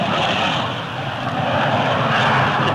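A P-80 airplane pulls out of a spinning dive toward earth during a test flight, producing a loud, continuous engine roar that swells slightly and holds steady throughout.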